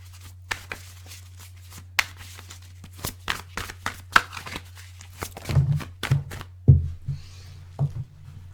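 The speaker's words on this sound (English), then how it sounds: "All right, one more shuffle." Tarot cards shuffled by hand in a quiet indoor setting, a series of crisp riffling snaps and soft slaps at an uneven rhythm, close and clear over a low steady hum, with no talking.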